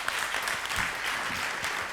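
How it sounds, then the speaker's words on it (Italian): An audience applauds the bishop at a book presentation about Blessed Cosma Spessotto in Roverbasso: dense, continuous clapping from a crowd, steady and fairly close throughout, with no voices. "Facciamo un applauso anche al nostro Vescovo."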